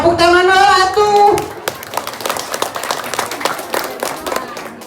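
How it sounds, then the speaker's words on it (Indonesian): An audience claps in a dense patter of many hands after a brief voice at a Tari Gaplek dance performance by Sanggar Rtd Cireundeu. "Tepuk tangan atuh."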